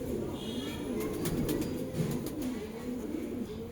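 Several home-bred pigeons coo in a continuous low, throaty murmur that lasts a few seconds, with a few light clicks and rustles mixed in.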